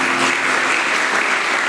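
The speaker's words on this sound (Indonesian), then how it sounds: "Dengan tepuk tangan Tuhan." Congregation clapping at a church worship service, a dense, even wash of applause sustained throughout at a steady loudness with no voices on top.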